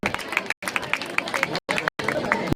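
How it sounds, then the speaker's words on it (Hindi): Students clapping at an award ceremony, a busy crowd of hands with sharp individual claps standing out, interrupted by brief dropouts, with some chatter mixed in. "जोरदार ताली बजाओ एक बार।"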